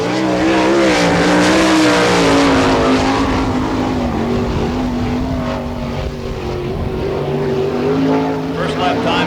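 Sprint car engines roar loud and continuous as a race car laps the dirt speedway at Barberville, Florida, during an All Star Circuit of Champions Speedweek event, the rising and falling pitch sweeping past with a commentator talking over it.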